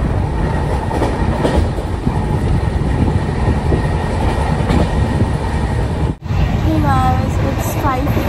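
A passenger train running on rails, heard from inside the carriage: a loud, steady rumble with rhythmic clickety-clack of the wheels, briefly dipping before a faint squeal of wheels on the track.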